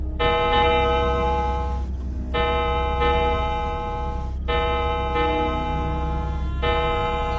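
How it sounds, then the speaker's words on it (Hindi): An old station platform clock chimes twelve times, a steady series of sustained, resonant bell-like strikes over a low background hum, loud and close. "प्लेटफॉर्म पर खड़ी पुरानी घड़ी ने 12 बार घंटी बजाई।"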